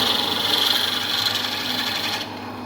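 A drill bit boring through a pen blank after pre-drilling with a smaller bit, giving a steady, close, raspy grinding whir that runs unbroken and cuts off sharply near the end.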